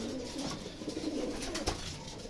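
Racing pigeons coo softly and repeatedly against a noisy outdoor background in Gerona, Tarlac, with no talking.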